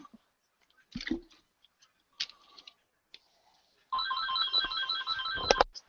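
Telephone ringing, a steady electronic trilling ring that starts abruptly after a few scattered clicks and knocks, continuing close and fairly loud to the end.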